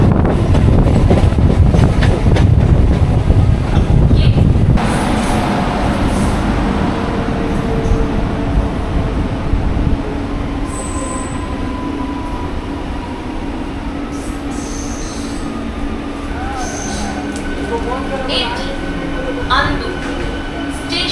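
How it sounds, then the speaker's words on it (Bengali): A local train on the Digha–Howrah line rolls into Andul station platform: loud broadband rumble and clatter of wheels, easing as it slows, with brakes squealing and scattered voices and announcements over the rolling noise. "আমাদের ট্রেন এখন আন্দুল প্ল্যাটফর্মে ঢুকছে"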